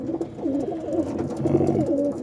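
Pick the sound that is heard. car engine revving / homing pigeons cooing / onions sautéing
homing pigeons cooing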